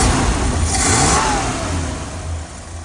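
A 1975 Ford E100 van's engine revs up and holds at a raised pitch, then eases off, close and loud with a steady rumble under the rising whine.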